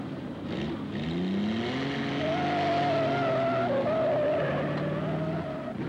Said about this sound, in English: Roaring into the 30s at Brooklands, motorcars took to the track at ever-increasing speeds